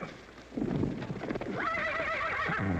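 A horse lets out a loud, wavering neigh close by, after a brief rustle of movement and hoof sounds, from a 1938 Western film.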